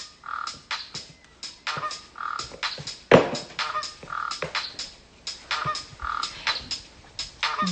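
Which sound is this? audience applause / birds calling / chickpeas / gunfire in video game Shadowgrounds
birds calling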